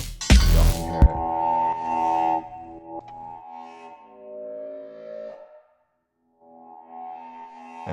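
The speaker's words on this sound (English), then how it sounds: "It's a stomp box pedal. Really, really good reverb." An electric guitar plays sustained notes through a stomp box reverb pedal on a plate setting, drenched in bright, long-tailed reverb, each chord ringing out and decaying slowly, with a brief silence before more notes swell in.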